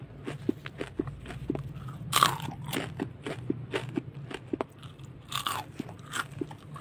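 Someone bites into a crispy fried Indonesian school snack, with repeated close crunches and chewing in an uneven rhythm, loud and without talk.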